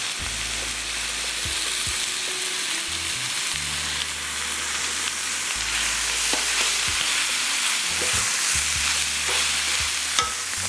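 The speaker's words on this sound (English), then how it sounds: "the seasoned ground beef goes back into the pan just like that." Seasoned ground beef fries with vegetables in a pan, a strong continuous sizzle with stirring scrapes and occasional clinks of the utensil against the pan, and no one speaks.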